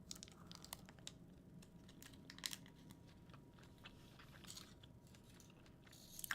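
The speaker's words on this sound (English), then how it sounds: "So here I am, about to stuff my face with chocolate." Someone eating chocolate close to the mic, faint scattered crunches and chewing clicks in irregular bursts over a low, steady background hiss.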